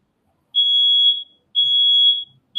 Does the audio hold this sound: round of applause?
no